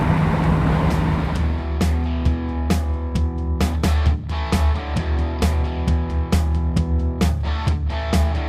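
A 1968 Ford Mustang convertible cruises at 65 mph in high gear around 2,300 RPM, a steady low engine drone with road and wind noise throughout, punctuated by frequent brief knocks and clicks inside the cabin.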